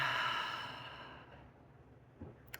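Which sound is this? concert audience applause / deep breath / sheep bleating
deep breath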